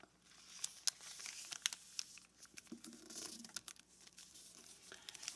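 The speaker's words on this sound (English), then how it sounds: "now let's fold this whole part behind, right on the existing crease" Origami paper folded back along an existing crease while making an 8-point star belt buckle, heard as soft, quiet crinkles and crisp rustles with a few sharper snaps, close up and without speech.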